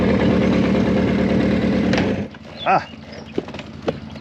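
A 40-year-old motorcycle engine idles with a steady, loud mechanical rumble, then cuts out abruptly halfway through, leaving a brief vocal sound and a few scattered clicks and knocks.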